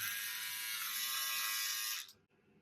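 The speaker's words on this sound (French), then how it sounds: "ce petit Philips One Blade, je l'aime" A Philips OneBlade electric shaver runs with a steady, close, bright buzz for about two seconds, then switches off abruptly, leaving near silence.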